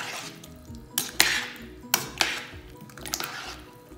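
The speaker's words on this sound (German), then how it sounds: "Das Ganze tun wir jetzt vorsichtig umrühren, dass alle Zutaten und der Kefir sich drin löst." A utensil stirs okroshka ingredients with kefir in a bowl, giving soft wet swishes punctuated by a few sharp clinks against the bowl's side, close and fairly quiet.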